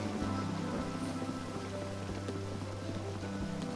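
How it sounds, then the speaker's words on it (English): Steady rain falls in The Legend of Zelda: Breath of the Wild, a dense, even hiss of droplets under a low sustained tonal hum, continuous and fairly loud throughout. "We're gonna have to stand around until it rains."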